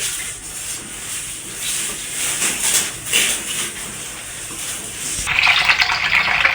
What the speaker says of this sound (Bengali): এখন আমি মুসুর ডালটা খুব ভালো করে ধুয়ে নেব।